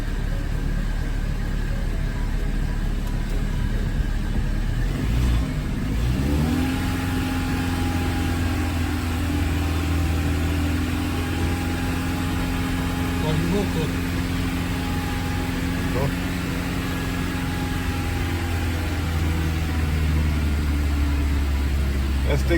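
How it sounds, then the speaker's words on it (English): A 2001 Volkswagen Jetta 2.0 engine idles as it warms up, a steady low hum with a faint whine. The pitch shifts slightly around the middle and then settles into an even drone. "we let the car run for a good 5 minutes"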